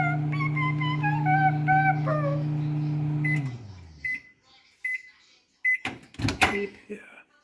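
A microwave oven cooking a chocolate chip cookie cake hums steadily with a low drone, then stops with a falling tone, followed by door clunks and beeps, with people talking nearby.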